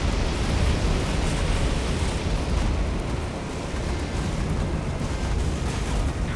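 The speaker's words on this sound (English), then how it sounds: "We have incoming enemy fire!" Dense, continuous booming explosions and artillery fire roar through a naval air battle in the Battlestations: Midway video game, loud and unbroken throughout.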